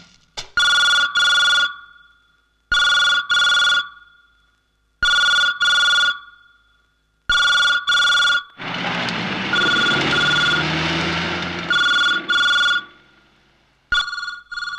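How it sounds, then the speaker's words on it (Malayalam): A landline telephone rings unanswered in a Malayalam film scene, sounding loud repeated double bursts of ringing with short pauses, partly buried midway under a dense wash of other noise before the rings resume alone. "ഫോൺ റിംഗ് ചെയ്യുന്നുണ്ടല്ലോ."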